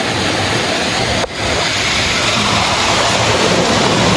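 Balon Falls pours down in a loud, steady roar of rushing water close by, a dense unbroken wash with only a momentary dip, and no voices.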